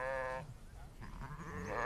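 A sheep from a flock grazing knapweed on rangeland gives one short, clear bleat. Quieter outdoor rustling and faint background noise follow.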